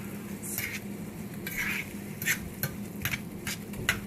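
Shrimp scampi with garlic and white wine cooks in a pan with a low steady sizzle, while several sharp stirring scrapes and clinks of a utensil against the pan come at irregular intervals.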